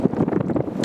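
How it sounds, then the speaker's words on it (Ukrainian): Strong wind buffets the microphone outdoors on a fishing trip, a brief, continuous low rumbling roar with no speech. "Звук може бути поганий, бо зараз потужний вітер"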